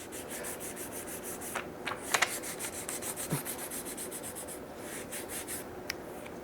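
Fine 1200-grit paper sanding motorcycle paint in quick, regular back-and-forth strokes, a soft rhythmic scratching heard close up, with a few small taps.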